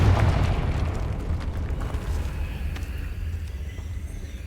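A Confringo blasting spell explodes in the video game Hogwarts Legacy, giving a loud, deep boom that opens strongly and then rolls on as a long, low rumble. No voices are heard.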